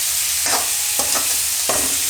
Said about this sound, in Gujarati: હવે આને મિક્સ કરીને તરત ટમેટાં નાખી દેવું આપણે આ રીતે